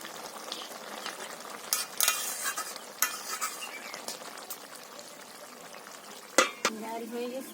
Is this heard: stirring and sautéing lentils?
yes